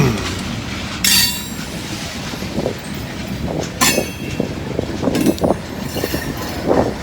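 A freight train led by yellow and orange Dash 9 locomotives rumbles past steadily, with bursts of squealing wheels and rhythmic clacking over the rails, close by and with no voices.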